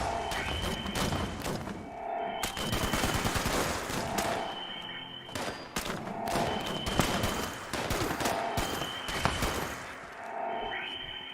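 In Fallout 76, a player pumps the trigger of a weapon, so repeated bursts and volleys of shots fire in clusters across the stretch, loud and close, with ringing tonal tails between the bursts.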